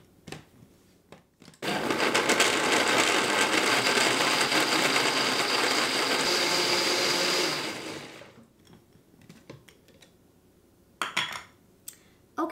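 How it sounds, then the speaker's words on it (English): Countertop blender whirring through dates and lemon juice for a blueberry pie filling, a loud steady roar for about six seconds that winds down, followed by a few scattered clinks and knocks. "And now I'll blend."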